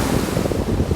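Wind gusts across a Crimean beach at Kazantip, roaring steadily into the microphone with a constant low rumble over the wash of surf, loud and close for about a second.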